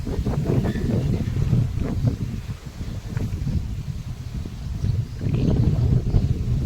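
Strong wind blows steadily across the microphone, a continuous low rumbling roar that swells near the end.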